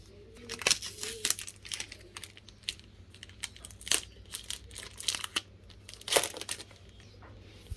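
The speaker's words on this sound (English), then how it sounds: "So we are going to open the plastic." Plastic wrapping torn and crinkled open on the box of a Wacom Intuos CTL-4100 drawing tablet, a run of close crackling, ripping bursts with sharper tears near the start and end.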